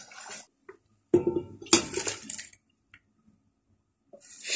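Metal cooking pots clank and scrape while being swapped during chicken curry preparation, a few sharp bursts of clattering and sliding separated by quiet gaps, close to the microphone.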